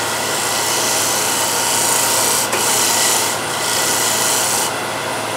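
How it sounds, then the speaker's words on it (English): Side edge of a shear scraper shaving willow wood in a steady, continuous rasping scrape lasting several seconds, close and fairly loud, with brief dips in the stroke near the middle and end. "So I'm using only the side here as a shear scraper."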